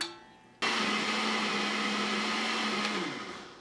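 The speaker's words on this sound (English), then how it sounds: "Place the chili into the blender. And we're going to puree until it's really fine." A countertop blender purees chili sauce for turkey tamales, a loud steady whir that runs unbroken with no talking over it.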